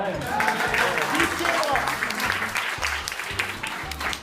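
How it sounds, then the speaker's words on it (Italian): Audience at a regional bilateral-body event applauding the hosts, steady close clapping with a rhythmic thumping beat underneath. "Comunque, Marco, dove l'applauso?"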